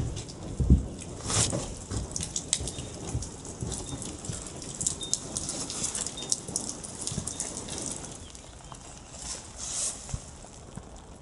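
Steady rain patters outdoors on a rural Ukrainian farmstead with a dense, hissy wash of drops, a few louder thumps and splashes near the start, no voices.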